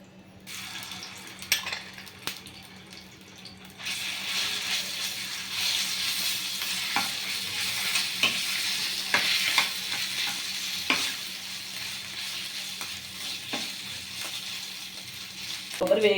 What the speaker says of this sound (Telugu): కొబ్బరి వేగుతుందండి, చూడండి ఎలా వేగుతుందో.